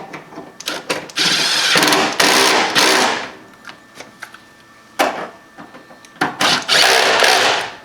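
A ratchet tightens 13mm engine and transmission mount bolts on a 2010 Lincoln MKT, loud bursts of rapid mechanical clicking separated by short pauses and softer handling noises, close up with no talking.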